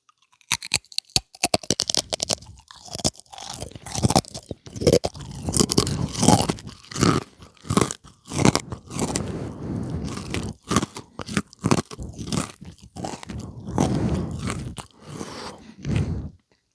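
Close, crisp crunching and chewing of pita chips, in repeated bites followed by steady chewing that goes on throughout, intimate and loud with brief pauses in between and no talking.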